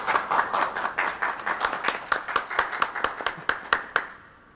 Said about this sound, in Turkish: Alkışlıyoruz çiftimiz lütfen.